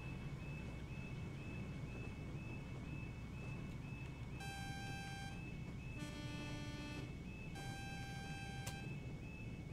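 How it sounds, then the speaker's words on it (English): Horn of a BR Class 52 Western diesel locomotive in the Train Sim World game, heard as three separate sustained multi-tone blasts in the second half, with a steady engine rumble underneath throughout. "Very dated horn, that's very dated."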